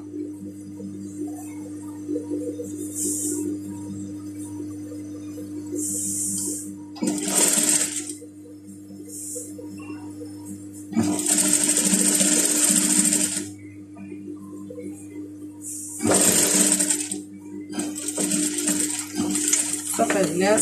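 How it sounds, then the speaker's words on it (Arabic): A sewing machine runs a second line of stitching along lace trim on a pajama garment. It gives several loud whirring bursts of stitching separated by pauses, with a steady low hum underneath and no talk. "نعاود الخياطه الثانيه ديال هاد الدونتيل هذا"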